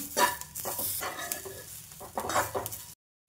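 Coriander, cumin and poppy seeds with grated coconut dry-roasting in a pan for a spicy vada rassa masala, giving soft scraping stirs and faint crackle, close but quiet, ending abruptly.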